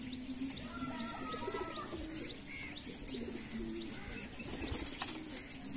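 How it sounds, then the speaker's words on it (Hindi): Soft cooing of a just-caught pigeon held in hand, with bursts of wing flapping and small chirps, close by and fairly quiet against a steady background. "ये रहा वो कबूतर जिसको हमने अभी अभी पकड़ा"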